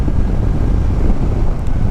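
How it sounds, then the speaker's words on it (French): Steady, heavy wind buffeting inside a motorcycle helmet while riding, a dense low roar with no other sounds. "là j'entends que les bruits de vent dans le casque"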